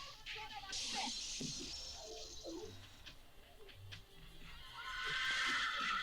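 A horse whinnies loudly in a film scene, a long, high neigh followed by faint clip-clop of hooves and another neigh at the end, heard from a movie soundtrack at moderate distance.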